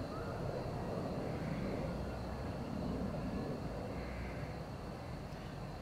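A steady, rumbling drone of a helicopter fills the air continuously, distant and unchanging, during a SpaceX launch from Vandenberg, with no other sounds standing out.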